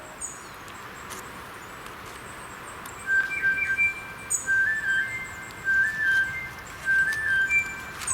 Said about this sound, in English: Da fing die Nachtigall an zu singen.